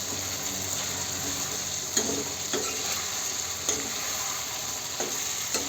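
Cumin, ginger and garlic sizzle in a pan while a spoon stirs them, producing a steady frying hiss broken by a few scraping stirs, close up with no voices.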